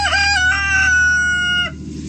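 A loud, close rooster crows in one long harmonic call lasting about a second and a half, then background noise continues with no talk.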